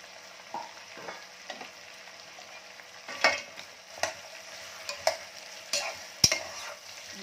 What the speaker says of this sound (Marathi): आता आपल्याला हे टमाटर टाकायचं आहे